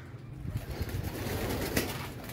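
A pigeon coos softly and repeatedly against a steady background hiss, with no one speaking.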